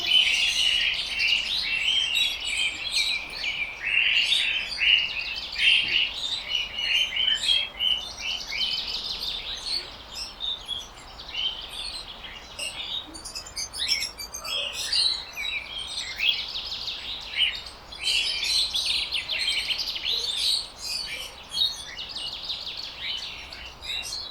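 Many birds chirp and tweet in a home garden, bright overlapping calls and quick trills going on continuously at moderate distance over a quiet background.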